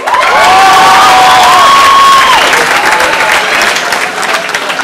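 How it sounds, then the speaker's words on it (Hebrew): Audience at a Purim show by naval officer cadets in Acre applauds and cheers loudly and steadily, with whoops and shouts rising above the dense clapping. "קבלו מחיאות כפיים לקיבל כהן!"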